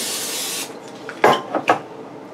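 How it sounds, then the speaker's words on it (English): A broad, steady hiss of an aerosol cooking spray lasting about half a second, followed by a few short clattering knocks. "spray that with some cooking spray"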